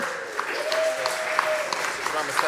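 Audience at a startup demo day clapping, a short burst of crowd applause under a voice speaking over it.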